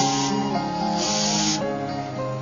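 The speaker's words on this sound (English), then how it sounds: "Once the machine is switched on, air is jetted out through the refill, and along with this high pressure air," Homemade air-tank sprayer forcing paint through a ball pen refill, a continuous loud hiss of high-pressure air with a steady hum underneath.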